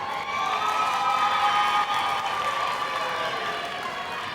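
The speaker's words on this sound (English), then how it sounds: "Stand up, turn around, and applaud your parents for supporting you during this time" Graduates at an Atlanta Job Corps graduation ceremony applauding their parents: a dense, steady wash of clapping from a large crowd in a hall, with faint cheering mixed in.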